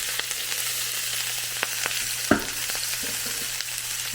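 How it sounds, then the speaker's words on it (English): Vegetable oil sizzles steadily in a pan as vegetables fry, a continuous crackling hiss with a faint low hum underneath and a brief clatter partway through. "I have some vegetable oil frying or warming up"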